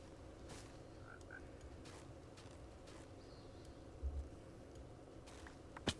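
Frogs croak in a steady, rapid chorus on an island in a survival video game. The sound is faint and continuous, with a few soft clicks and no talking.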